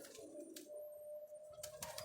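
A pigeon coos softly and close by, a few low murmuring calls over a faint steady background hum.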